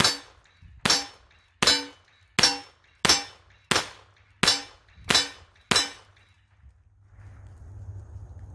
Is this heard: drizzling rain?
no